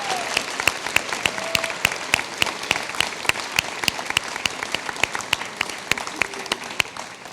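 Applause fills a school awards ceremony for a CTE student of the year, a steady wash of many hands with sharp individual claps popping out, fairly close and continuous with no talk over it.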